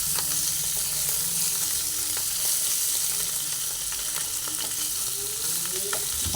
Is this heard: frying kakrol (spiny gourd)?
yes